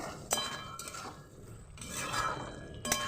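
Boiled potatoes for sesame posto are stirred in a pan over high heat, giving a few scraping strokes and light clinks of the spatula against the pan, close and quiet with no talking.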